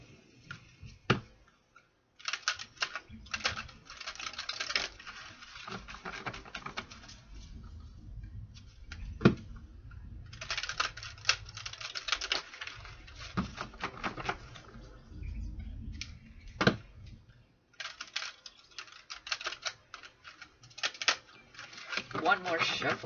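Soft, irregular papery riffling and tapping of tarot cards being shuffled close by, in bursts with quiet gaps between them.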